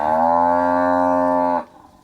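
Large-framed, hungry cattle from a 57-head herd in Kanchanaburi, Thailand give one long, loud, close moo lasting well over a second, then it cuts off to quiet; no one talks.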